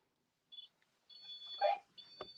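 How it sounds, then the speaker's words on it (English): A recorder activating its open channel gives off thin high-pitched electronic beeps: a short blip, a longer tone, then another beep, with a soft thump in a quiet room. "You hear the beep? That means it activated the open channel."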